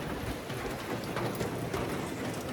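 Steady morning rain falling in the village of Muang Ngoi in northern Laos, a continuous close hiss of drops on surfaces with no voices.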